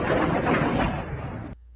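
A glowing orb plunging into the sea off San Francisco Bay gives a broad, sustained rumbling burst like a firework or distant explosion, loud and noisy for about a second and a half before cutting off abruptly to near silence.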